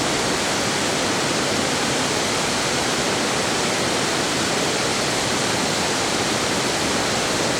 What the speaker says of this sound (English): Every little part of the waterfall is a little bit different to the other as the water winds its way down through the boulders